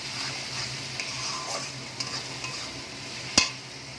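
Spice masala with salt and sugar frying and being stirred in a pan for chicken kofta curry, giving a low steady sizzle with a few light scrapes and one sharp metallic clink near the end, close and without speech.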